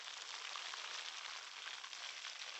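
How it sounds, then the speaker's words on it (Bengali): Lote fish, Bombay duck, frying in hot oil in a kadai, giving a steady, dense sizzle that holds evenly close by and alone, with no talk. "দেখুন মাছগুলো কিন্তু ভাজা ভাজা হয়ে এসছে।"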